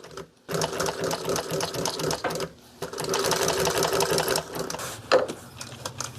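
A sewing machine stitching a longer run, its rapid mechanical whir steady and close, broken by a couple of brief pauses before restarting.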